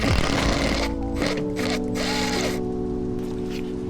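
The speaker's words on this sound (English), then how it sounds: "Alright, now we got a 13mm. We're going to take those bolts off." A 13mm ratchet loosens the thermostat housing bolts on a 2011–2021 Dodge Durango 5.7L V8 HEMI, giving a loud, close, continuous run of rapid metallic clicking over a steady humming background.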